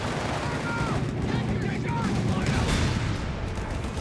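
Rapid bursts of .50 cal machine-gun fire crackle continuously in Company of Heroes 3 game combat, dense and loud across the whole stretch, with a commentator talking over the shooting.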